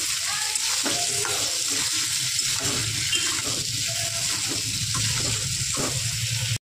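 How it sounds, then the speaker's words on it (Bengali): Potato pieces frying with turmeric and salt in hot oil, a steady, close sizzle with intermittent stirring scrapes, continuous and even until it cuts off abruptly. "এই আলুগুলোর মধ্যে আমি 1 চামচ হলুদ, 1 চামচ নুন দিয়ে আলুটা আমি 5 মিনিটের মতো ভেজে নেব"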